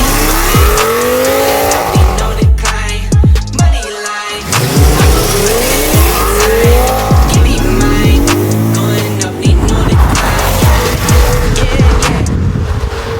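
An Audi S8 with a 5.2 V10 is driven hard, its engine revving up and down through repeated gear changes while tires squeal and skid, loud and close for the whole stretch.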